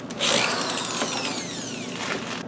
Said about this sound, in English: I'm going to drill that in through there so that this thing is all nice and sturdy